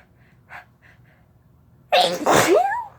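Sneezing brought on by chhinkni: a few faint sniffs and an intake of breath lead to one loud, close, explosive sneeze with a trailing vocal tail.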